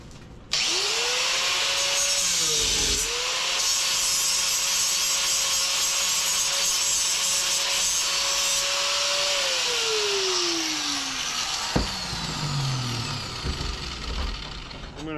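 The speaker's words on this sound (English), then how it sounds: "cut the bolts down just a hair" Metal bolts being cut down with a power tool during shifter assembly for a Northwest Fab Ecobox case, a loud steady whine that rises, holds for several seconds, then winds down toward the end with a clank.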